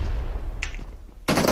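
Gunfire in the video game PUBG Mobile during a competitive scrim, a distant shot or two followed by a loud burst of rapid fire near the end.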